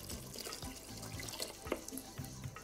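Broth poured into a pot of mushroom soup with crème fraîche, giving a continuous close, watery trickle with small splashes and clinks throughout.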